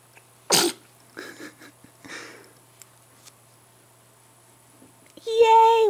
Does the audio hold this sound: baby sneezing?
yes